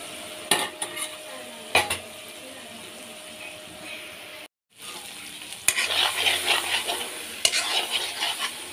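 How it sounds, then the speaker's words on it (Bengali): Food frying in a pan crackles with a close, steady sizzle, punctuated by a few sharp scraping stirs, with a brief silent break midway before the sizzle returns livelier. "আমি লড়ে দিচ্ছি"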